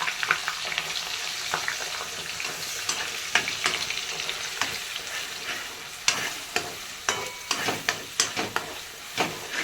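Malvani sukka chicken masala roasts in a pan, with a steady sizzle and repeated spatula scrapes and clacks that come faster and louder toward the end.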